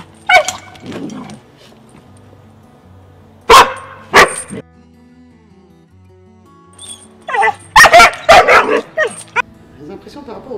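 A Cane Corso barks in sharp bursts, a few loud barks early, a pair mid-way, then a rapid volley near the end, close to the microphone with quiet gaps between.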